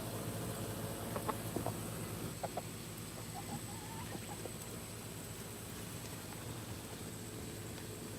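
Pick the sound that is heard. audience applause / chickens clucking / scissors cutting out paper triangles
chickens clucking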